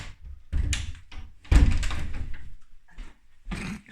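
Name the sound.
door opening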